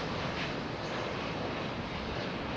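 An airliner with Rolls-Royce Trent 7000 engines arrives at London Heathrow in the early morning, a steady broadband jet roar at moderate distance with a breathy, wind-like rush throughout.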